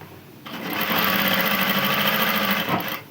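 Sewing machine running steadily while stitching an umbrella frock, a continuous close, fairly loud motor whir with rapid needle chatter that starts after a brief pause and runs nearly three seconds before stopping.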